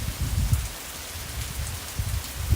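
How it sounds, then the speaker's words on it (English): Rain pours steadily onto rocks during a flash flood storm in Arizona, a dense hiss of close drops with soft low thumps, constant and moderately loud. "what you guys are hearing is just the rain. Hitting the rocks and stuff."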